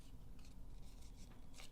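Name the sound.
scissors edge scraping paper leaves for texture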